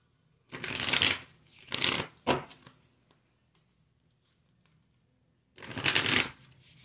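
A deck of tarot cards gets shuffled in three quick riffling bursts, close and crisp, with a short gap before the final shuffle.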